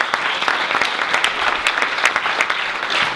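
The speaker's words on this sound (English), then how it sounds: "give these guys a round of applause right here" A small group gives a brisk round of applause at a talk on high performers, dense clapping close and loud for a few seconds with no talk over it.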